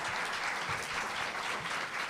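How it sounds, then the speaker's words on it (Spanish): An audience at a science congress session on artificial intelligence and the future of work applauds, a brief, even burst of many hands clapping with no speech over it. "Muchísimas gracias. Un aplauso también"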